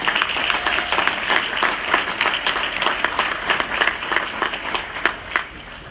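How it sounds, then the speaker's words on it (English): At a graduation reception, an audience applauds steadily: dense, even clapping that fills the room for several seconds with no break. "Let's give them an applause."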